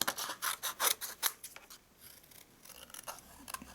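Scissors snip out stamped paper pieces for a card-making project, a run of crisp close cuts in quick rhythm over the first second and a half, then quieter slower snips and paper rustle.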